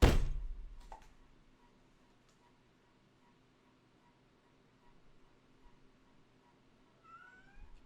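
A cat gives a short meow near the end after a sharp thump at the start, with a quiet room hum in between.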